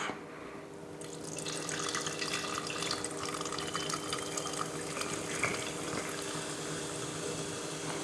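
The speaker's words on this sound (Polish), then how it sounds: "wlewamy wodę, trzymając butlę pod kątem 45 stopni" Steady rush of water pouring into a tilted CO2 system bottle, a continuous splashing hiss with a faint low hum underneath, close by.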